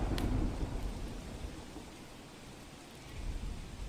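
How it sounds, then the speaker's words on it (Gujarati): Heavy rain pours down in Jamnagar during flooding, a dense, steady wash of rainfall with low rumbling swells and no voices. "જામનગરમાં સતત વરસાદી માહોલ છે"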